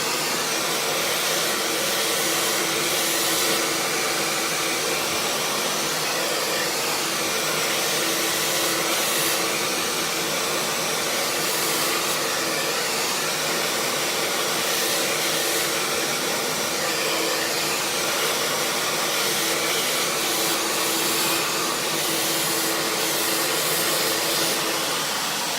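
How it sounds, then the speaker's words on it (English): A hair dryer blow-drying wet hair, its loud, steady high-pitched whir running continuously for the whole stretch with slight fluctuations as the dryer is moved, no talk. "Keeping the dryer moving."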